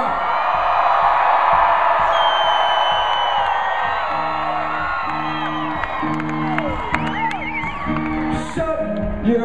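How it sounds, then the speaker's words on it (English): Concert audience at a gig screaming, whooping and cheering loudly and continuously, a dense wall of crowd noise with shouts rising above it and a steady rhythmic pulse running underneath from about four seconds on. "scream out again. Enough of the projectiles, but scream right again, come on!"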